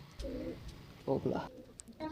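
Pigeons coo in a few short, low throaty calls close by, broken by brief gaps and a faint chirp.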